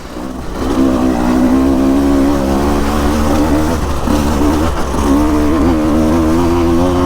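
2024 KTM 150 EXC dirt bike engine chugging at low revs on slow, grippy terrain, a close, steady two-stroke drone that rises and dips slightly with throttle changes.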